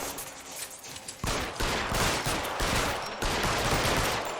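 Rapid gunfire in the crime video game L.A. Noire, a loud, dense volley of shots fired close together in quick succession, continuous and heavy with no pauses or speech.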